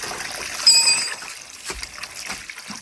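Water poured out in a bathroom, a continuous hissing splash with a sharper surge near the start and uneven spattering bursts after it, fairly close and with no talking.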